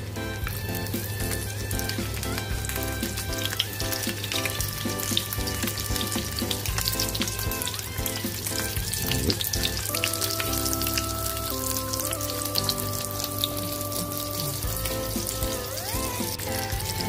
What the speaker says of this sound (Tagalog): Nagpiprito naman tayo ng tuyo.